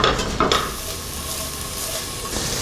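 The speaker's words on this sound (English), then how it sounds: "I'll let the jalapenos sweat down a little bit and then I'm going with the beef" Jalapenos sizzle and sweat in a hot pan, a steady close frying hiss with a couple of brief stirring scrapes near the start.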